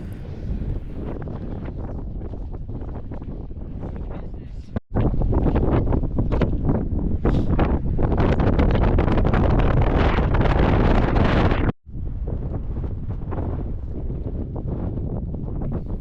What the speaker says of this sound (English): it is so windy, I can't even tell in editing what I said.